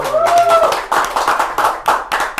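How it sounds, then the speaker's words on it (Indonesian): Audience members clapping in a podcast studio, a few close, loud hand claps in uneven bursts, preceded by a brief whistle-like tone and mixed with some chatter. "Berikan tepuk tangan dong, kasih tepuk tangan."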